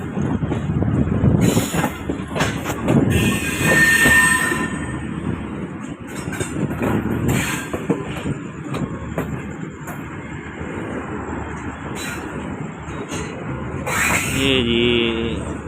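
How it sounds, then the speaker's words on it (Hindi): Passenger train hauled by locomotive 101UP on the Lahore to Rawalpindi line near Lala Musa Junction, a steady loud rumble and clatter of rolling wagons filling the whole stretch, with a few faint voices and cattle-like calls mixed in. "ये जी रावलपिंडी जा रही है ट्रेन।"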